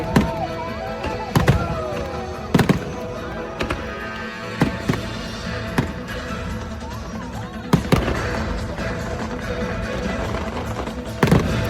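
Fireworks burst over the sea during the Kiss of the Sea night show at Hon Thom, Phu Quoc, with sharp booms and crackles every second or two over a steady crowd and music background.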